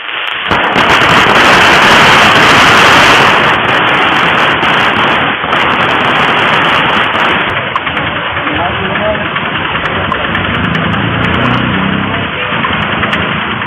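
Supporters celebrating outside a politician's home in Tindivanam set off strings of firecrackers, a loud, dense crackle of rapid bursts that runs continuously throughout, with an engine-like rumble underneath.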